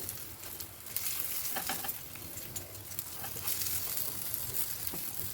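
Semolina snacks fry in a well-heated pan with a soft, steady sizzle and scattered crackles and pops. The sound is fairly quiet, with no talking.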